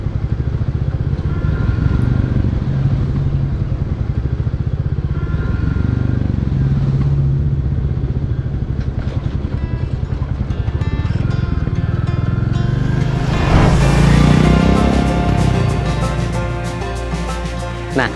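A Royal Enfield Classic 350 motorcycle with its 349 cc J-series single-cylinder engine runs steadily and loud throughout, its low thumping drone briefly swelling as the throttle rises near the end.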